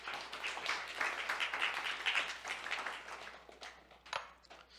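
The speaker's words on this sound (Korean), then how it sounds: "우리 하나님께 박수 한번 쳐드립시다." A church congregation claps together after a sermon reading, making a fairly faint, scattered burst of applause that tapers off toward the end, heard at a distance without speech.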